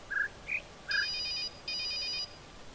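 Cell phone ringtone from the puzzle game The Witness: three short high chirps followed by two sustained electronic ringing bursts, clear and alone over a faint hiss.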